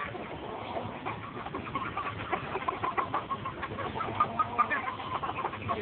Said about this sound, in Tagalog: Yan ay mga manok.